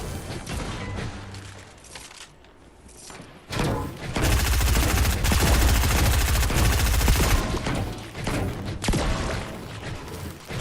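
Bursts of rapid gunfire in the Fortnite video game, a dense automatic barrage following a quieter stretch, loud and sustained with a few pauses.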